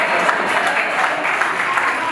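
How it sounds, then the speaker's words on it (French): Steady applause from a wedding audience, dense and continuous clapping at moderate loudness throughout, with faint voices mixed in. "On applaudit pour les Zébi ici"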